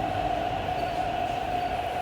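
A steady rail rumble with a sustained metallic tone hangs over the whole moment, loud and close, like a subway train rolling along the platform at Sha Tin Wai Station.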